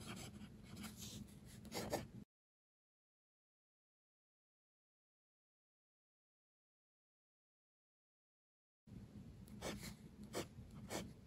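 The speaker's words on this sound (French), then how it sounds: "J'écris ici sans flex, ça fonctionne parfaitement bien, la plume est vraiment très douce" A Scribo La Dotta fountain pen nib scratches softly across paper in two short bursts of close writing strokes, separated by a long stretch of silence.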